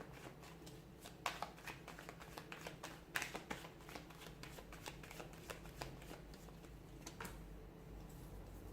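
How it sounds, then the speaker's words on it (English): Tarot cards are shuffled repeatedly, a run of quick crisp riffles and taps close up, with no talking. "give the cards a shuffle"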